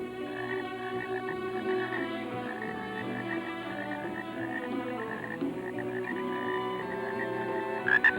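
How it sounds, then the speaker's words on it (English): Frogs croak in a Borneo jungle at sunrise, a dense overlapping chorus of rhythmic calls pulsing steadily in the humid forest, some near and some more distant, with no voices. "As the frogs awaken, they add their voices to the jungle's symphony."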